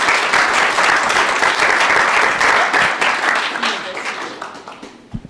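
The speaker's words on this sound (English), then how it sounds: "Give him a round of applause." Applause at a Texas Tech accelerator graduation and ribbon cutting ceremony, a dense crowd clapping loudly and steadily, then tapering off toward the end with a few last claps.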